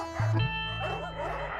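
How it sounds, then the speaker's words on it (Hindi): Dogs bark at night: one sharp, loud bark followed by softer whining yips, moderately close. "आज कुत्ते कितने भौंक रहे हैं"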